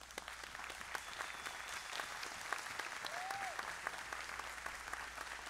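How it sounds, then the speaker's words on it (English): Sustained applause from a church congregation fills a large worship space, dense steady clapping with a faint whistle or two rising over it. "And so can we give you a round of applause right now?"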